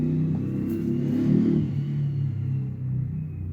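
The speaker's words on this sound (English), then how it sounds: "Traffic noises." Traffic rumbles past close by, a low steady engine drone with one vehicle swelling louder before easing off, and no voices.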